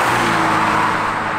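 A Porsche 944 Turbo pulls hard in second gear under turbo boost, its engine rising in a loud, close, steady roar for a brief moment with no talk over it.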